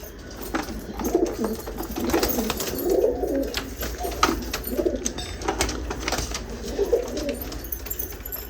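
Ferozpuri pigeons coo in soft, low repeated bursts nearby, with rustling and faint background noise between the calls.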